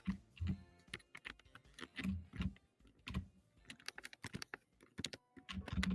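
Someone types on a computer keyboard, a quiet, irregular patter of key clicks in short bursts with brief pauses between them, heard up close and alone.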